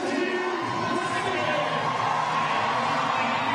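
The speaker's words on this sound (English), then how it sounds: "Crowd starting to get on their feet" A home crowd at a fitness competition roars in a steady, dense wash of cheering and noise throughout, with voices blended into the din.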